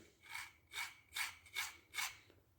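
Filing or sanding strokes bevel both edges of an acoustic guitar rosette inlay strip, five even rasping passes in a steady back-and-forth rhythm, close and fairly quiet with no voices.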